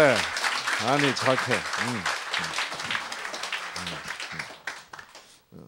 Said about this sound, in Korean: 박수 한번 칩시다 우리